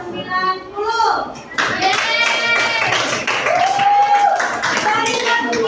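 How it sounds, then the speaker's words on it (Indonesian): Schoolchildren in an Indonesian junior high classroom clap a patterned rhythmic cheer to reward a group, sharp claps mixed with children's chanting voices, close and lively. "Beri tepuk nilai untuk kelompok"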